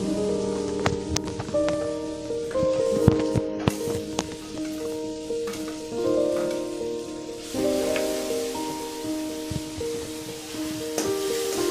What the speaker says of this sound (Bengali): পেঁয়াজ বাটাটাও একটু ভালো মতো কষিয়ে নেব।